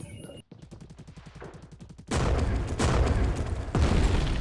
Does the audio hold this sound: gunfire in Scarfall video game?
yes